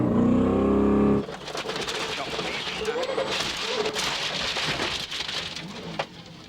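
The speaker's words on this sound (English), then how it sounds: "Bruno, the engine sounds terrible." A 1996 World Rally Championship car at a rally stage, its engine misfiring and running rough, sounds as a dense broadband roar that starts abruptly after a loud opening second and carries on steadily with crackling irregularities.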